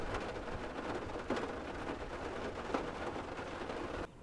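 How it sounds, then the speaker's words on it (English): Rain pours steadily onto a roof near a beach on a Labor Day weekend, a dense, even hiss with a few louder spatters before it cuts off abruptly near the end. "I'm sure you'd rather hear the rain hitting the roof than me yapping anyway."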